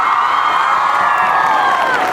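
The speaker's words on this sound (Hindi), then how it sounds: "जोरदार तालियां" A crowd at an intercollegiate sports prize ceremony applauds and cheers without a break, with steady clapping and shouts blending into one loud, unbroken roar.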